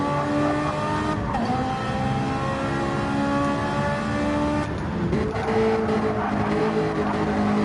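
Race cars, a Ferrari among them, roar down a fast straight in a BTCC touring car racing video game, engines droning and shifting pitch with tire squeal and passing whooshes, steady and loud throughout.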